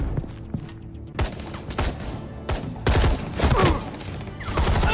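Gunfire in Batman: The Telltale Series crackles in sharp bursts of shots, sparse at first and then thicker and louder toward the end, with thuds mixed in.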